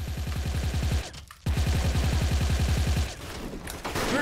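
Rapid automatic gunfire in the online shooter Special Force, a steady stream of evenly spaced shots that breaks off briefly, resumes for another long burst, then fades into lighter clatter near the end.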